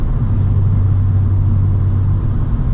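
Kia Stinger GT2 with a Borla active valve exhaust cruising in 8th gear, a steady low droning rumble filling the cabin, loud and constant with no change in pitch.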